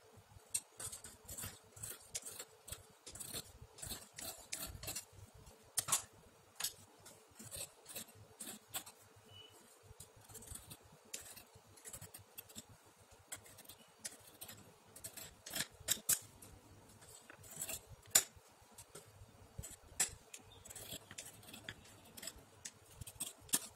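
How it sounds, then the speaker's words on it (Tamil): Scissors snip through blouse fabric in a long run of quick, crisp cuts. The cuts come in irregular bursts and sound close and fairly quiet, with no voices. "சரி, இப்போ இதை கட் பண்ணி எடுத்துடலாம்."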